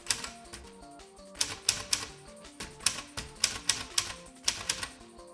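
Typewriter keys struck one after another in an irregular, steady rhythm on a typewriter hacked with added electronics, crisp and close, the clacks mixed with sustained electronic tones that step between pitches.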